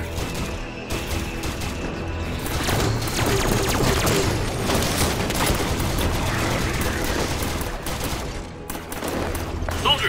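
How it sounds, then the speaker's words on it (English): A plasma caster fires during a Halo 5 campaign battle: dense, continuous bursts of shots, thuds and booms roll on for ten seconds without a break. "Plasma caster."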